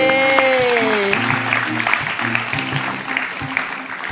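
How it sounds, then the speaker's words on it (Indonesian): Audience applause at a comedy stage show breaks out under a loud, ongoing voice and music, steady clapping texture running throughout alongside tonal sounds. "Keren banget, kasih tepuk tangan, keren banget."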